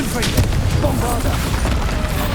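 The Bombarda explosion spell in Hogwarts Legacy, with dense, booming blasts and crackling bursts rolling one after another at a loud, steady level, while a voice talks over the action.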